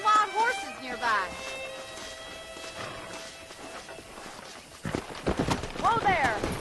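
Horse hooves clip-clopping in the Red Dead Redemption western video game, a steady walking rhythm under game music and character voices talking.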